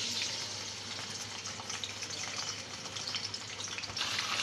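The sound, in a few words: chicken added to hot oil for chicken karahi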